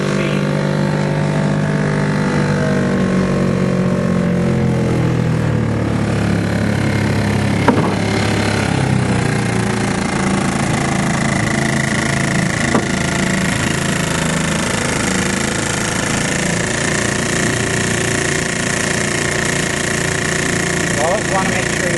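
A 1941 Evinrude Handitwin antique outboard motor runs steadily at a constant pitch, a loud, continuous mechanical drone with a faint rattle and a few sharp knocks.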